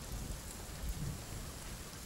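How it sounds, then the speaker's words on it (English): Steady rain falls in the video game Sons of the Forest, a soft continuous hiss with low rumbling underneath, fairly quiet, with no voices. "He just likes walking in the rain."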